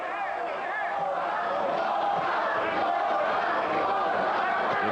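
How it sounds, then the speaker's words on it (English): Large stadium crowd in Puebla, Mexico roaring steadily behind challenger Merqui Sosa at a boxing match, a dense sustained wall of chanting and cheering throughout. "The fans vocally behind the challenger Merqui Sosa."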